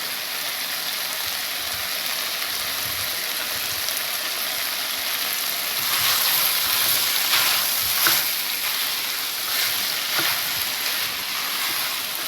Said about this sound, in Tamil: எண்ணெயிலேயே கொஞ்ச நேரம் வதங்கட்டும்.